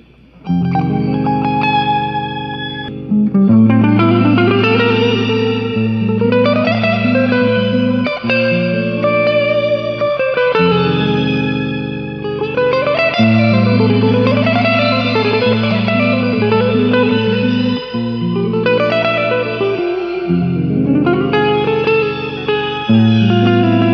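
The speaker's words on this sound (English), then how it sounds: "Now the shimmer, I noticed it's different from the Hall of Fame Reverb" An electric guitar plays sustained chords through a JOYO Atmosphere reverb pedal's shimmer setting, drenched in a shimmering, octave-up reverb that swells and lingers in a bright, airy wash.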